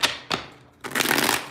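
Tarot cards being shuffled: two quick riffling bursts followed by a longer, louder flutter of cards, close up with no voices.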